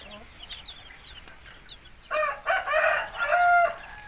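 On an organic broiler chicken farm, faint chick peeping gives way to loud rooster crowing and clucking, several strong calls close by in the second half.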